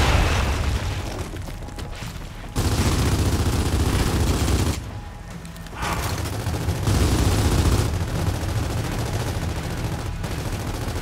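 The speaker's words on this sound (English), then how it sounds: "We gotta get a frag in there! Fire in the hole!" In Gears of War 4, a frag grenade thrown into a nest sets off a heavy, sustained stretch of booming explosions and rapid gunfire, loud and close, broken by two brief sudden drop-outs, without speech.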